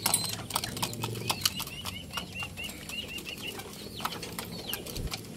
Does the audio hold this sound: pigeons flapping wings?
yes